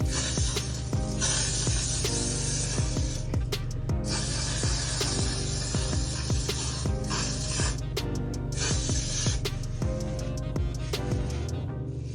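Aerosol hair spray hisses in steady bursts while a straight natural hairstyle is slicked back into a bun, close and continuous over a low hum with small brushing and handling sounds throughout.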